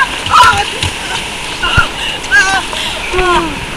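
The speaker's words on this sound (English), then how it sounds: "There's the waterfall, man!" Water crashes and splashes around a raft on the Rip Roaring Rapids ride at California Great America, in close bursts mixed with riders' excited shouts and chatter.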